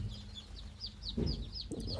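Chickens cluck repeatedly nearby at a poultry farm, with short rising calls over a steady low hum.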